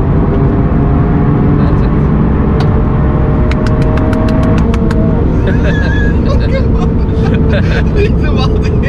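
A Toyota Yaris GR accelerates at full throttle around the Nordschleife, its engine drone loud and steady from inside the cabin, with a voice talking over it and short ticking clicks partway through.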